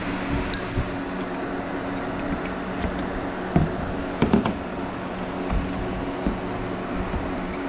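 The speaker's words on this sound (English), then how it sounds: "So sorry for the fan noise" A steady mechanical whir of a running fan holds throughout, with a few faint clicks and knocks standing out near the middle.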